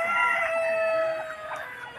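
Pricey farm chickens with a rooster crowing, a drawn-out cock-a-doodle-doo over a bed of clucking hens, fairly loud and close.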